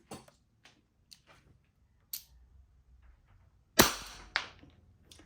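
Wingun S731 silver CO2 revolver firing into a chronograph: a few small snapping shots spread out, one loud sharp crack near the middle, then lighter clicks and taps, fairly close and without talk.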